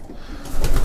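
Pigeons kept by a fancier coo briefly and close at hand, with a short soft burst that swells near the end over quiet background noise.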